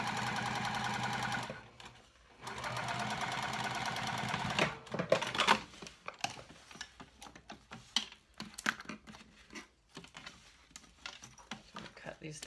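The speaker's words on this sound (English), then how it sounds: "So with this top stitch, I'm going to stitch at 1/8 seam allowance." A sewing machine runs in two sustained loud bursts while top stitching a lined cork dopp kit, followed by scattered clicks and handling noises as a person talks.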